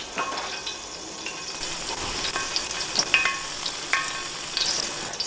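Hot oil being tested before frying black-eyed pea fritters, a continuous close sizzle with scattered sharp pops and crackles, a few light clinks, and no speech.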